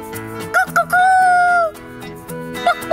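Close, bright hen-like clucks around a long drawn-out squawk, sounding like a voice imitating a chicken.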